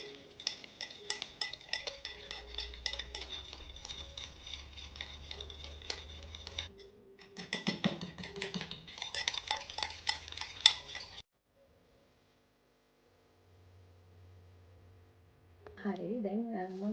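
A spoon works Nescafé coffee and a little water into a coffee scrub, giving fast, rhythmic clinking and scraping in bursts that pause briefly, stop near the end, then give way to a voice.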